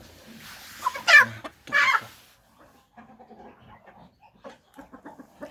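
Chickens and roosters on a farm, including year-old roosters, give two loud clucking calls near the start, followed by fainter scattered clucks and rustling.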